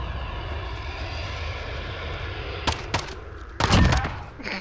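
A jet aircraft in the Call of Duty: Modern Warfare video game roars steadily overhead, joined late by bursts of gunfire and a loud boom.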